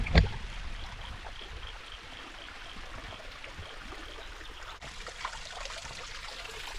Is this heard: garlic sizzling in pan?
no